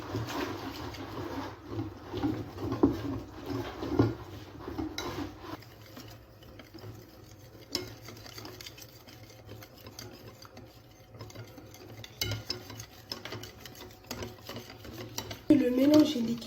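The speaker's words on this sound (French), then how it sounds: "nous allons venir rajouter le lait petit à petit. Et nous allons à chaque fois mélanger pour qu'il s'incorpore bien à la pâte" A spoon or whisk scrapes and clinks in a bowl, stirring crêpe batter as milk is added a little at a time, with intermittent rubbing strokes and a louder clatter near the end.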